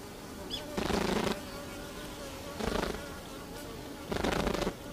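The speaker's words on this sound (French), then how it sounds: "Quel type d'informations les abeilles japonaises se transmettent-elles en faisant vibrer leurs ailes ?" Japanese honeybees buzz in three short bursts of wing vibration, each about half a second, with quieter humming background between them.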